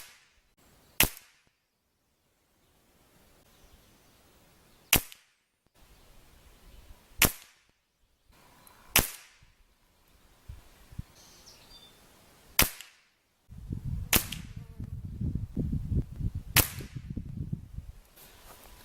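Benjamin Maximus PCP air rifle firing pellets at a 20-yard range: seven sharp, isolated shots spaced a couple of seconds apart, each a crisp crack with quick decay, later joined by a rumbling background noise.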